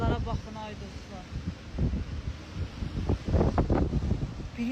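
Blustery wind and rain in a storm, a broad continuous roar with gusting surges that swell louder toward the end, while a voice talks over it.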